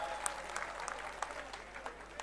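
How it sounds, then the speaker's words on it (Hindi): A Congress rally crowd in Ashoknagar applauds a new party member, a modest spread of claps rising and falling with a few sharper hand slaps, fairly distant over a low steady hum. "सतपाल, हमारे सतपाल ने आज कांग्रेस ज्वाइन की, जरा उसके लिए जोरदार तालियां बजा दो भैया।"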